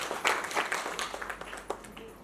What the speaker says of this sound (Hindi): तो give big round of applause, अच्छे जोरदार तालियां बजा के रश्मि जी का हौसला अफजाई करना चाहिए